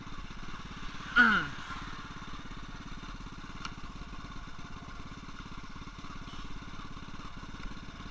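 An old Honda C70 motorcycle engine runs with a steady, low putter, and a brief louder rev comes early on while someone talks over it.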